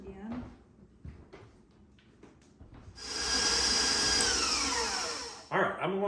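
A food processor whirs steadily for about two and a half seconds while blending a fish roe mousse, after some scraping and clatter and before a speaker talks again.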